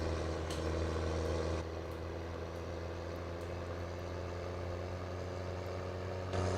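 Trucks idle at a village grain elevator in Farming Simulator 17, a steady low diesel rumble with a constant hum that stays even throughout, with a slight brighter hiss at the start and end.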